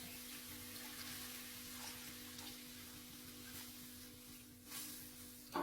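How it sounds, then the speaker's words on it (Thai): Pork frying in a pot for Thai kaeng om as rice-washing water and plain water are poured in, giving a steady close hiss and sizzle with a brief knock near the end; no one speaks. "ก็ใส่น้ำลงไปน้ำล้างคกนี่แหละครับ แล้วก็เติมน้ำเปล่าลงไป1ลิตรครับ"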